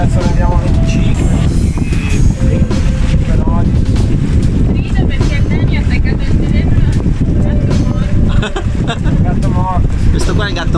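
Loud, constant wind buffeting the microphone on a sailboat at sea off Sardinia, about 25 knots, with rushing water and a voice talking underneath, mostly drowned out.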